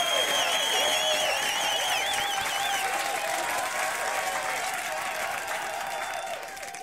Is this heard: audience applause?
yes